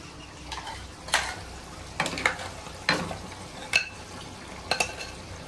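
Gongura leaves with raw prawns sizzle softly in a pan while a spatula scrapes and clacks against the metal in spaced strokes, about seven distinct stirs over the quiet frying, with no talk.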